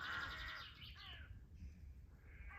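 Crows call in an old graveyard, a few caws and squawks sounding at moderate distance over quiet outdoor ambience.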